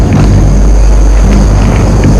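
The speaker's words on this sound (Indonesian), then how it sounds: "Angin di sini makin kenceng ya" Strong wind roars outdoors at night, a loud, constant rumbling buffet against the microphone with heavy low-end noise throughout and no pauses.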